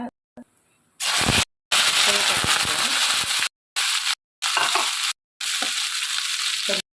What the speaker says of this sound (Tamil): கோவக்காய் தாளிக்கிறது இந்த கடாயை வச்சாச்சு